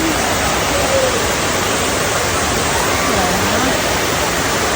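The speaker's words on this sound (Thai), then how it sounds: "ตอนนี้เราถึงน้ำตกชั้นที่สองแล้วนี่ อยู่มุมนู้น" Steady, loud rush of falling water at the second tier of Pala-U Waterfall, a dense broadband roar that fills the whole clip with faint voices barely rising above it.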